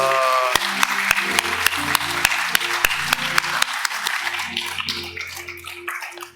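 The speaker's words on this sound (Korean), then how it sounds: "우리 하나님께 감사의 박수 올려드리겠습니다" A church congregation at a Sunday service applauds steadily for several seconds, dense clapping that fades toward the end while sustained organ or keyboard chords play underneath.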